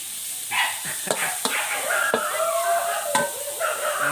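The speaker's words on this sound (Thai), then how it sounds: "พอพริกเริ่มสุกแล้วเราก็ใส่เนื้อหมูลงไปนะครับ" Minced pork stir-fried with chili and garlic in a wok, a steady sizzle under scraping and tapping of a spatula against the pan, with several sharp clinks through the stretch.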